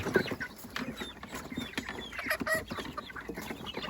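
Busy chorus of chickens clucking and chicks peeping, many small calls overlapping close by with scattered rustling.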